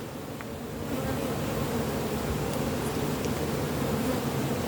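Honeybees buzz in a dense, continuous drone at a production hive with hornets around, filling the air steadily at moderate volume.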